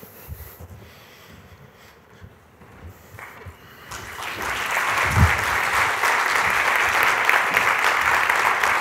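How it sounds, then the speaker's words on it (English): After a few seconds of quiet room noise and faint shuffling, an audience breaks into sustained applause that swells and holds steady, a dense even clapping to the end. "That's right, clap."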